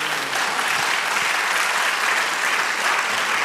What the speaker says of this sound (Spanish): Sigue aplaudiendo.